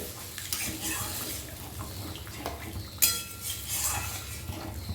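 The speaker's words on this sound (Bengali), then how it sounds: "এই অবস্থায় আমি দিয়ে দিচ্ছি জল বেশি জল দেওয়ার দরকার নেই" Water is poured into a pan of doi katla, a yogurt fish curry with the oil beginning to separate, giving a short splashing pour amid light clinks of cookware in a kitchen.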